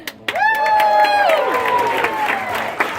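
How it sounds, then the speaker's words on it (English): A comedy club audience applauds and cheers a headliner: a loud crowd swell rises after a short pause, with whooping voices and clapping sustained together, easing slightly toward the end. "you have to give a huge round of applause for your headliner"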